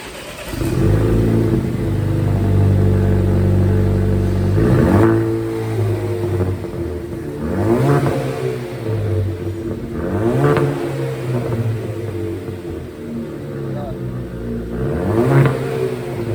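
A Camaro V8 fitted with a new custom offroad exhaust idles and revs repeatedly, rising and falling in several loud, close blips over a steady rumble, with no voices.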